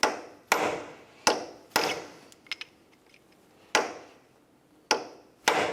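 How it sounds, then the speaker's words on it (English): Sharp metallic hammer strikes on a punch, peening an axle nut into the axle groove on a 2009-2010 Pontiac Vibe, ring out one at a time with pauses between, followed by a few light taps. "We'll do that using a hammer and punch."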